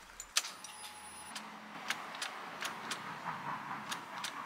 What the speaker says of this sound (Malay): Bila saya pulas kunci, bunyi tu seolah-olah macam ada benda yang lekat.